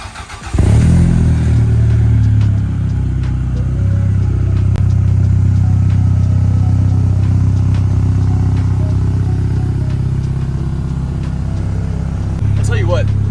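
A Toyota MR2 SW20 Turbo fires up in a garage, a short cranking burst followed by a steady, loud idle hum with a low drone that holds throughout, ending with a faint clatter.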